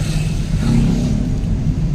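Road traffic noise on a congested street, a continuous low rumble of car engines close by, steady and fairly loud with no speech over it.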